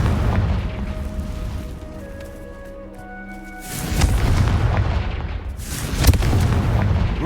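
A Confringo fire spell exploding in Hogwarts Legacy, with heavy booming blasts and rumbling bursts around a brief quieter stretch of tonal game sounds, then a strong impact near the end.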